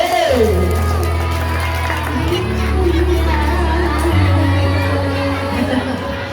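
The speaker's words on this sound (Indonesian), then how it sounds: "Lagi tepuk tangan yang meriah buat Trisa dari 4B." Children in a school audience at an elementary school fashion show cheer and clap loudly and continuously, with shouting voices and a steady crowd roar over a low tonal hum.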